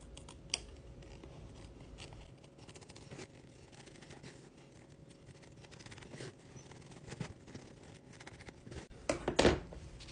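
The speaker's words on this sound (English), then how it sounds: "Now we're going to trim to the stitch line again, getting as close to the stitches as possible without cutting them." Scissors snip quietly at fabric along a stitch line while making a Christmas ornament, with faint scattered cuts and a couple of louder snips near the end, no talking.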